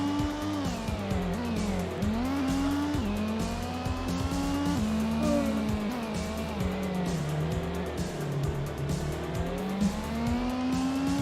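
A Mazda Lantis race car engine in Gran Turismo whines and revs continuously, pitch rising and falling through gear shifts, with tire squeals mixed in, loud and close throughout.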